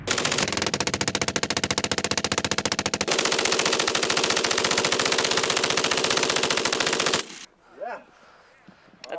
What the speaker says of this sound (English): The MG-42 was a simple, reliable killing machine.